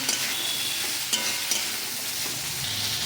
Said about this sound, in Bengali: মশলা দেওয়ার পর একটু নাড়াচাড়া করে এবার একটু জল ঢেলে দেবো